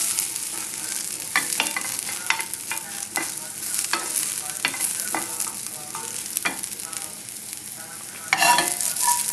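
A wild rice and turkey salad with asparagus is stirred and tossed in a bowl, giving a continuous close scraping and rustling with irregular clicks of a utensil and a louder burst of mixing near the end, with no talk.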